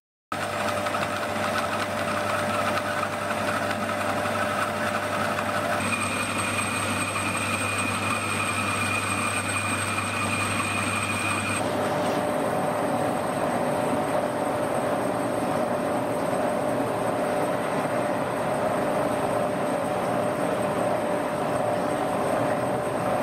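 Steady, loud whine of a Remige SR 500 band saw resawing hard figured olive wood, a continuous drone with a shifting pitch partway through.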